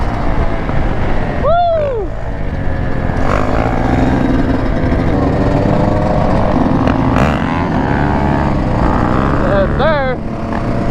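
A 250cc dirt bike engine revs at a stunt lot, a steady rough drone running throughout with rising pitch sweeps near the start and end, while people shout and talk over it.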